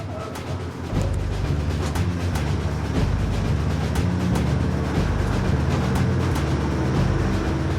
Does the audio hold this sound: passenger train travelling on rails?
yes